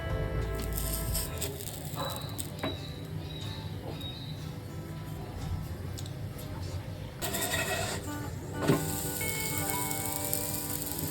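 Puran poli made with organic jaggery roasting in ghee on a pan over medium heat, giving a steady close sizzle throughout with a few faint clinks, while someone talks over it.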